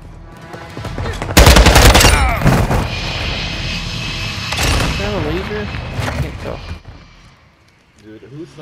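An enemy jet streaks overhead in Call of Duty: Modern Warfare II, a loud roaring pass joined by bursts of machine-gun fire and explosive cracks, with a voice talking over the din before it fades.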